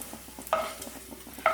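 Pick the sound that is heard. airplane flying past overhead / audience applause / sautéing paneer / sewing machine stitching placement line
sautéing paneer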